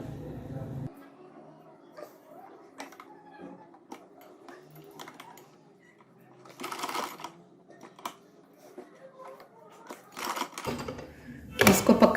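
A sewing machine stitches a poncha in bursts of rapid needle clatter separated by pauses, close and moderately loud, with a louder run near the end.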